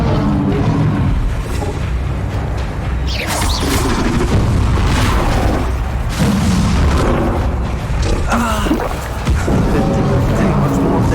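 Bombarda spell blasts in Hogwarts Legacy combat, heavy booming explosions repeating amid a dense, loud mix of clashing battle effects and crashes, with no clear pauses.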